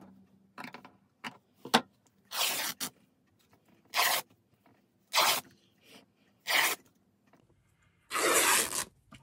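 Strips of material 1 to 1.5 inches wide are cut for Dollar Tree Easter decor, giving repeated short ripping and scissor-like cutting bursts separated by quiet pauses, close and fairly faint.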